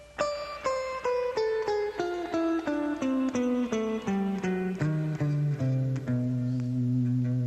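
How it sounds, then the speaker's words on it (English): Guitar notes step down a descending scale, each note plucked clearly and evenly, ringing close and alone, the last note held longer. "It's a little melody that descends down the guitar"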